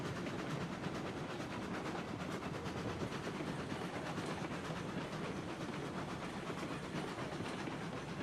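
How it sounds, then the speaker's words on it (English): Train slowing down in the video game Railroads Online, a loud continuous rumble with rhythmic clickety-clack of wheels on rail joints and a hissing wash over it, steady throughout with no voices. "the train's slowing down"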